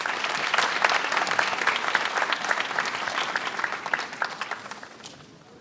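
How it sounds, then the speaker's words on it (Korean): Studio audience applause for a lecturer on a televised talk, dense and steady clapping that fades out over about five seconds. "박수 부탁드리겠습니다"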